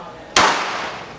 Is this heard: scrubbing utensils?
no